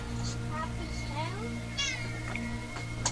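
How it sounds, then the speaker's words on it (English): A cat meows several times while perched up on a desk, the rising and falling calls spread across the moment, over a steady electronic hum and with faint talk in the background. "I've got this damn cat here up on my desk."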